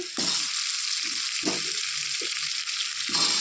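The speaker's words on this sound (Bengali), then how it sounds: "আমি কয়েকটা আলু কেটে রেখেছি আলুগুলো একবারে দিয়ে দিচ্ছি" Chopped potatoes are tipped into onions frying in a pan, raising a loud steady sizzle with soft stirring scrapes and clunks beneath it.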